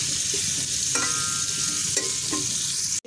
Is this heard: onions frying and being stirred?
yes